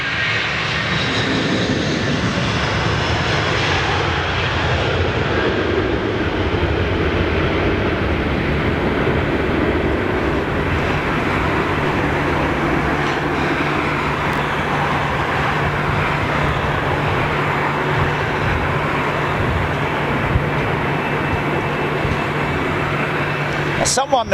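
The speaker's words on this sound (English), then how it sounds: "Let's just catch this 330 as she goes out." An Airbus A330 airliner takes off, its loud jet engine roar sustained and steady throughout as it climbs out, with a faint voice talking over it.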